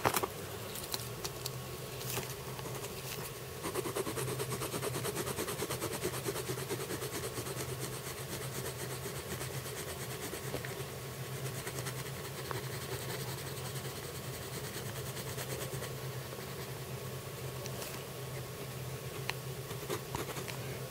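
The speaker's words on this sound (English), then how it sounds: "I'm going to use a bigger pencil for this." Pencil scratching across paper in continuous, uneven strokes while an anime girl's legs are sketched with a bigger pencil, close and steady, over a constant low hum.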